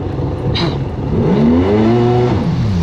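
A Yamaha GP1200R personal watercraft engine revs up, its pitch sweeping upward in a rising whine as it accelerates, loud and close over a few seconds.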